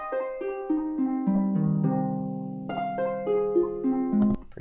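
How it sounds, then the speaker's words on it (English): Sustained harp notes played in a slow descending then rising melodic line, resonant tones ringing into each other, clear and alone, ending with a brief plucked flourish. "Here's a harp."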